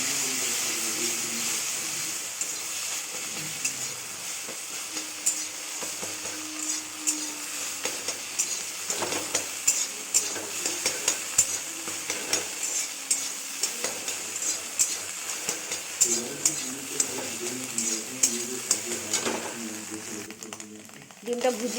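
Beaten eggs with a little salt sizzle steadily in hot oil while being stirred and scraped into bhujia, with repeated sharp spatula taps against the pan and a faint voice at times.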